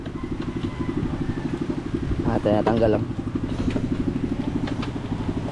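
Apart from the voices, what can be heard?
boat engine running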